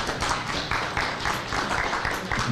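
At a memorial service, a crowd gives a round of applause for a pastor. The clapping is dense and steady and continues loudly without a break.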